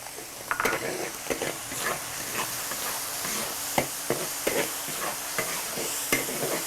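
Ginger, garlic, dried chilies and Sichuan peppercorns stir-fried in a wok for a Sichuan minced-pork dish: a close, steady sizzle broken by repeated sharp scrapes and clacks of the spatula at an irregular pace.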